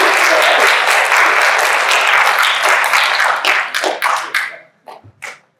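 Close, loud round of applause for a guest speaker at a talk on living and working in a global context, dense at first, then thinning into a few scattered claps before stopping.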